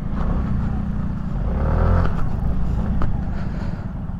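A Kymco SkyTown 150 scooter engine drones steadily as it climbs a steep hill, a low continuous hum with wind rush heard close up from the rider's position.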